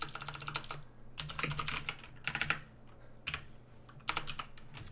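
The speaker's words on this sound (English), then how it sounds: "we're just going to type in what we want it to say" Typing on a computer keyboard while writing a Unity script, with quick clusters of close, clicky keystrokes separated by short pauses and no talking.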